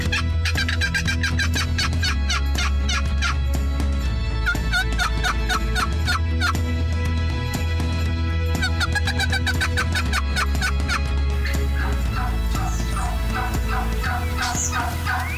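Wild turkeys in Nebraska calling steadily, with a hen going off nearby: repeated gobbles and sharp clucking barks in dense bursts throughout, fairly close, over a constant low rumble.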